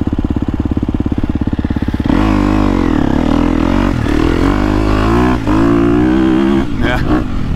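A KTM 250SXF Factory Edition motocross bike's four-stroke engine pulses at a fast idle, then revs up hard and climbs through several bursts of throttle, loud and close.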